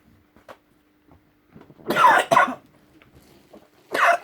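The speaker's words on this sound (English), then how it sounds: "There was a cough." Two or three short coughs from a woman straining in training, close and abrupt, with quiet breathing and small noises between them.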